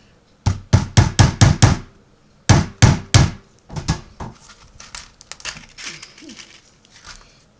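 Sharp hammer blows ring out in quick bursts as small nails are driven into a wooden beehive frame, a run of five then three, followed by lighter, scattered taps, close by with no talking.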